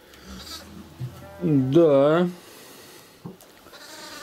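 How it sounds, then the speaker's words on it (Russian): Young goats bleat loudly in a village farmyard, a wavering cry of about a second rising over background chatter, with a fainter call just before and people talking nearby. "Там козлята."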